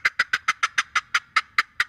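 Eleven sharp, evenly spaced yelps from a wooden turkey box call imitate a hen turkey, loud and close, cut in a quick steady rhythm with no talking.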